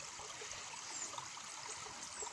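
A shallow stream at a mountain pass crossing on the Khamar-Daban route gives a faint, steady trickling and hissing flow that continues without any voices.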